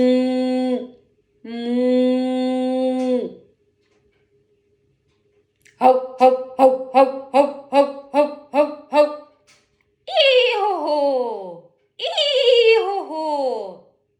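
A cow's long moos, then a rapid run of dog barks, then two horse whinnies, all imitated by a voice in a children's sound-guessing game, loud and close with pauses between animals.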